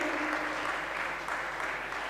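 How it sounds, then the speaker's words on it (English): An audience applauding the quiz masters at a quiz national final, dense steady clapping from many hands, fairly close and sustained. "A very, very, very big round of applause to our quiz masters, Big Brain and Rashmi."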